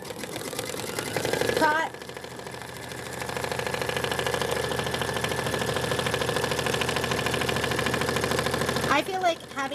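A computerized sewing machine stitches out a pattern with a fast, steady mechanical whir close by, pausing briefly near the start and again near the end. A voice speaks briefly.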